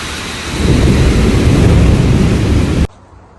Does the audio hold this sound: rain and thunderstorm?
yes